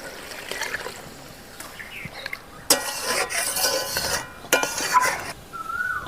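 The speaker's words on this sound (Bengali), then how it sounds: "চিপে রাখা নারকেলের দুধটা এবার আমি দিয়ে দেব" Squeezed coconut milk poured into a pan of fried pointed gourd and a little water for a vegetarian curry, a soft splashing trickle with light utensil clinks, close by.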